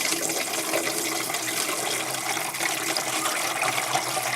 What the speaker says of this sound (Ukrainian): Розводимо його, заливаємо його водою.